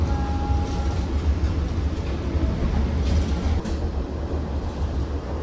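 Argo Lawu executive passenger train running on rails near Lempuyangan station, a steady loud low rumble of wheels and carriage noise throughout, heard from inside the coach, with a brief high whine at the start.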